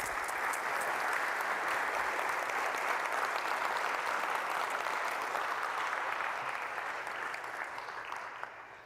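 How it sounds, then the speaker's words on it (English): A church congregation at a Sunday service applauds in a long, dense round of clapping that holds steady, then slowly tapers toward the end, with a faint murmur of voices underneath. "Just a round of applause again"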